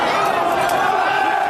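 A protest crowd in London cheers and yells in a dense, steady roar as a police officer is kicked to the ground, loud and continuous throughout with no pause.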